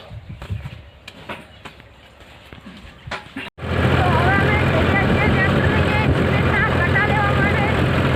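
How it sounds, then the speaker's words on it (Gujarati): A tractor heading out to collect bags of cement: a few quiet knocks and handling noises, then a loud, steady engine roar that starts abruptly and runs close and unbroken to the end. "તો ટ્રેક્ટર લઈને જઈ રહ્યા છીએ।"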